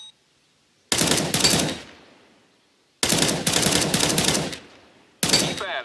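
Automatic weapon fire in CS:GO training plays as three loud, rapid bursts close to the listener, each trailing into a brief echo with short silences between, and no talk.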